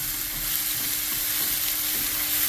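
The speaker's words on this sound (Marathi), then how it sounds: "एक आनियन हो फूल बरो भाजून घेवपाचो" Onion fries in hot oil for a Goan pork ribs dish, a steady close sizzle with faint stirring and no talking.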